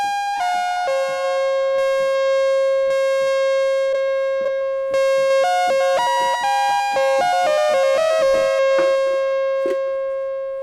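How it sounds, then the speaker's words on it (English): A Behringer synth with ping pong delay plays a held tone under rapid repeating notes that echo back and forth, building into a busy stepped melodic pattern, heard loud and alone without talking. "Use ping pong delay."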